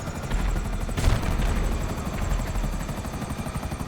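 A Hunter attack helicopter in GTA Online thrums steadily with a rapid whirring rotor chop and a loud engine roar, with a sharp burst around one second.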